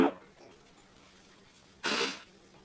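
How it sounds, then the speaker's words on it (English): A single short sneeze bursts out near the end, close and fairly loud, after a brief breathy sound at the start and quiet background in between. "the sniffles are back and the sneezes"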